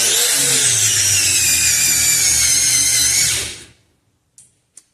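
An angle grinder whines loudly while grinding stainless steel lubricated with Drill Wax, running steadily for about three and a half seconds before spinning down, followed by two brief faint clicks.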